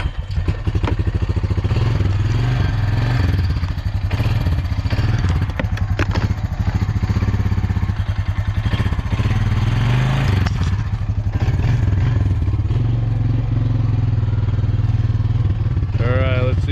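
A quad ATV's engine runs steadily at close range, a low throbbing idle with rattling clatter, the battery nearly dead and the choke in use.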